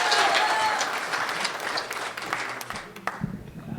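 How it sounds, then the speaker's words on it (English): Applause from an open mic comedy audience welcoming a new performer, a steady wash of clapping that gradually thins and fades out near the end. "give him a warm round of applause"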